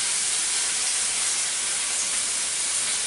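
Ham and cheese pocket sliders steaming on heat give off a steady, loud, close hiss of steam that runs unbroken for the whole stretch.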